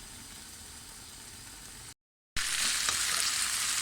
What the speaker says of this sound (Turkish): Baklalarımız güzelce kavrulmaya başladı.